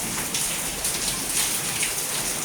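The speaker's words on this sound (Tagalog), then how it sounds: "Ang lakas ng ulan." Heavy rain pours down steadily, a dense, loud hiss of drops drumming on surfaces close by, with no talking.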